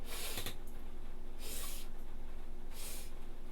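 A voice imitates sniffing with three short, sharp nasal inhales spaced about a second apart, close and breathy.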